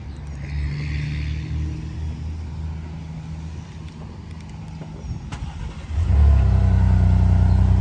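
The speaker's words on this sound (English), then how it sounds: "I'll give it a remote start real quick so you can hear it start up." A 2023 Ford Expedition Timberline fires up by remote start after a quiet idle-like hum, the engine catching abruptly and settling into a loud, deep, steady exhaust rumble up close, with no voices.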